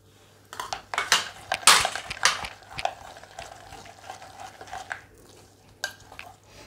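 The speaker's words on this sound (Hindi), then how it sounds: "अब हम इसको मिक्स कर ले" Dal batter being mixed with fresh spinach and a bowlful of coriander, heard as irregular wet squelching and scraping strokes in a bowl, busiest early and then tapering to scattered taps.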